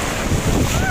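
Ocean waves at Talashil beach roll in as a loud, close roar of surf, mixed with wind buffeting the microphone in a brief burst.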